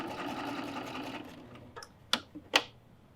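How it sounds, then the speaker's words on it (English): A serger sewing machine runs steadily as it stitches a pillow, a continuous motor whir that fades out, followed by a few sharp clicks and clunks of handling the machine, fairly quiet with no talk. "So I'm just going to start to sew."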